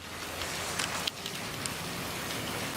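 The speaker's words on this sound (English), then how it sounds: "the sound of the rain is actually sounding like there was a storm almost" Heavy rain pours down outdoors in Mexico, a steady, loud, close hiss of water with a few sharper drops and splashes standing out from the constant roar.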